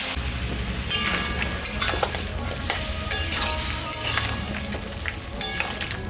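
Ginger-cumin paste frying in a pan with green chillies, a steady close sizzle with a hiss like rain and frequent scraping stirs throughout.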